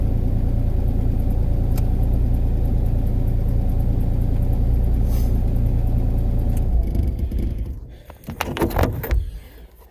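A car engine idling on a cold December day, a steady low rumble holding for several seconds before fading, with rustling and handling noises near the end; no talk over it.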